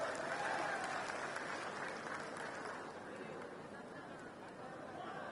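A large crowd at a political rally in DBL Arena, Surabaya, applauds loudly and continuously, the clapping easing slightly toward the end amid general crowd noise.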